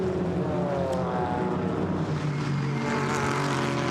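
A Camaro GT4 race car at Zandvoort rumbles steadily with a low engine drone and faint shifting tones, heard from a distance under broad background noise.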